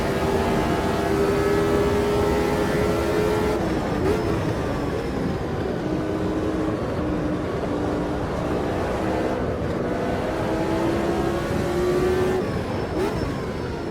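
Race car engine in the Automobilista 2 sim racing game, droning steadily throughout with rising and falling revs through gear changes, loud and continuous with no talk.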